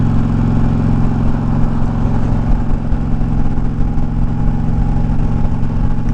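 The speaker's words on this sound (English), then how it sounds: "Let's see how much wind noise you get." Steady, loud wind roar mixed with a low engine drone while riding an Indian Challenger Darkhorse motorcycle at constant speed with the windshield lowered.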